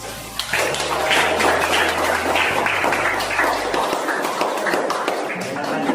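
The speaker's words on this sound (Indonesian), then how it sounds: "Kalau tidak, beri aplaus" A classroom audience breaks into sustained applause, a dense patter of many hands clapping that runs for several seconds, with voices of students and teachers mixed in underneath.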